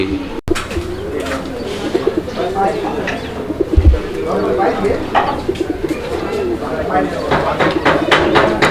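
Pigeons coo repeatedly at a Bangladeshi pigeon farm, a steady, dense murmur of calls kept up under loud, ongoing talk nearby.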